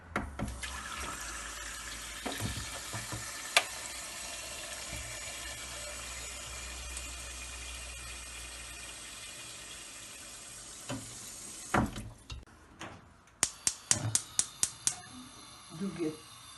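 Lamb meat goes into a pot on a stove in a Tuscan kitchen while it cooks with carrot and turnip. A steady hissing, water-like rush fills most of the time, with people talking, then sharp clanks and clatters of cookware at the end.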